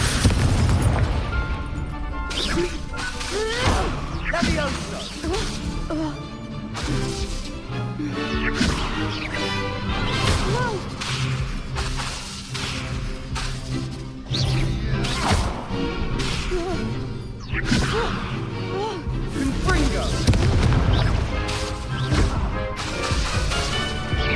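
Confringo blasting spells in a Harry Potter video game: a rapid run of booming explosions and crashing impacts, loud and close, mixed with shouted voices and game sounds throughout.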